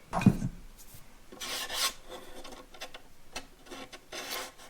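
Rasping strokes of sandpaper rubbing on the wooden kerfing inside a 1962 Harmony archtop guitar, in irregular bursts with short pauses between, close and fairly quiet.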